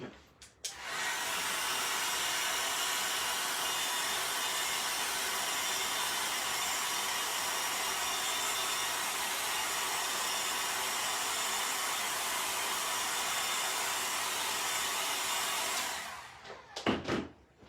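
A handheld dryer blows on freshly applied chalk paint on a craft tag. It roars on abruptly, holds a loud, even whooshing hum for about fifteen seconds, then clicks off with a brief rattle at the end.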